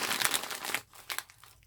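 Crinkling plastic packaging on a two-pack of cleansing wipes, handled close up in a quiet room, with dense crackling for most of a second, then a pause and a few shorter rustles.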